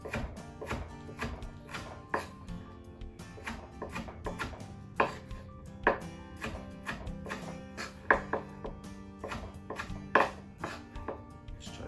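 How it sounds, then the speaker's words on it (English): A knife slicing tomatoes into strips on a cutting board, a rapid series of crisp, evenly spaced thuds that come in short bursts, close and clear, with no talking. "So then we're gonna take these, cut those into strips."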